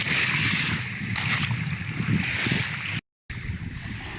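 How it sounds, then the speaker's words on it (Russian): Sea waves wash onto the shore in April, heard as a broad, steady rushing roar with wind buffeting the microphone and a brief dropout near the end. "Хожу, слушаю шум моря."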